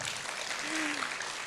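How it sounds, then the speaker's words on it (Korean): Applause from an audience at a Korean public-service job fair concert event, a steady wash of many hands clapping filling the space at a moderate level, with a faint voice briefly audible underneath. "박수 부탁드립니다"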